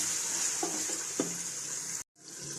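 Tomatoes frying in a turmeric, chili and salt masala for chana daal give off a steady, close sizzle, with a couple of soft stirring knocks before a brief cut.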